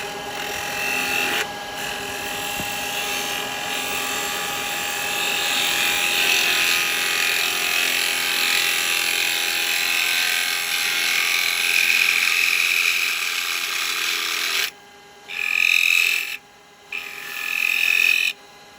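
A woodturning lathe spins while a 3/8 gouge shapes seasoned wood into a miniature cowboy hat. A loud, continuous hissing scrape runs for about fifteen seconds, then breaks into short separate cuts with gaps between them.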